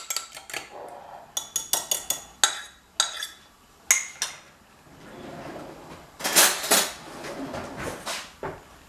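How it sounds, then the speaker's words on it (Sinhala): Two eggs being lightly beaten in a bowl for pancake batter, a fork or whisk clinking sharply against the sides in quick bursts, then a fuller, rougher scraping stretch near the end; close and clear, with no talking. "ඊපස්සේ අපේ බිත්තර දෙක යන්තම් ගසා ගන්නවා"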